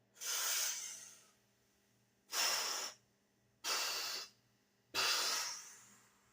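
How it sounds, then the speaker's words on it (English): Forceful breathy exhales let out in three separate bursts with short silent gaps between them, emptying the lungs, close and clear with no talking. "we're going to let the breath out in 3 distinct chunks"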